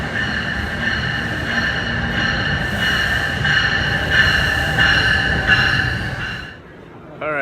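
A commuter train running toward the Meadowlands rumbles and rattles steadily with a constant high whine, close and loud throughout, then fades sharply near the end.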